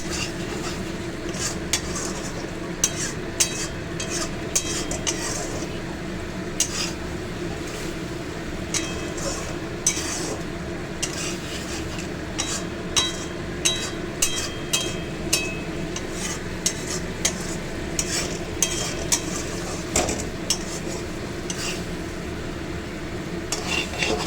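Bhola fish masala being stir-fried in oil in a pan, a continuous low sizzle with regular scraping and clacking of a spatula stirring close by.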